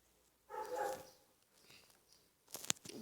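A newly adopted young dog gives a short bark or yelp at close range, followed by a few quieter sounds and a sharp burst near the end.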